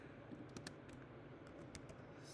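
Quiet typing on a computer keyboard, a run of soft, irregular key taps spaced through a short stretch with no voices.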